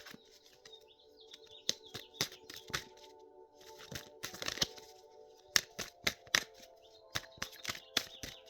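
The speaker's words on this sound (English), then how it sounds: "That little bird is having a nice conversation out there." A small bird chirps outdoors in quick, bright bursts and short trills, moderately distant, scattered among crackling and rustling sounds in an otherwise quiet setting.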